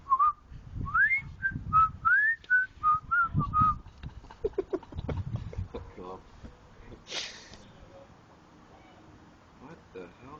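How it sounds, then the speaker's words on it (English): A person whistles a short tune of rising, sliding notes for a few seconds, followed by sniffs, snorts and background noises, with voices talking. "I feel like whistling this."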